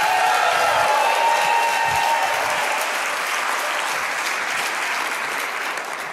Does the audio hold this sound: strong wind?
no